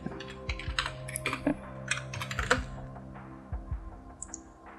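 Irregular bursts of fairly close keystrokes on a computer keyboard as a password is typed, with a few louder clacks and a faint high clink near the end.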